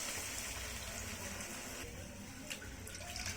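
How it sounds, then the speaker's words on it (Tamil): Water is poured into a pan of salna masala for parotta salna, a steady splashing gush that runs continuously at moderate loudness with no talk. "இப்போ வந்து தண்ணி விட்டுக்கலாம்."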